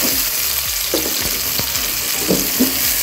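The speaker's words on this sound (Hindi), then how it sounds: "ऑयल गर्म हो गया तो अब हम इसमें प्याज डालेंगे।" Onions fry in hot oil, giving a steady close sizzle and crackle with occasional stirring clinks and scrapes throughout, and no voices.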